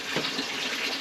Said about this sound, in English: Water's starting to flow now.